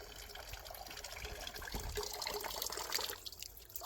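Cold water runs steadily from a village stone fountain, a close, continuous splashing and trickling flow with no talk over it.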